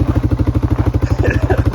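A Suzuki Vinson 500 4x4 ATV engine chugs close by in a steady, fast rhythmic pulse, with a brief slight rise in revs near the end.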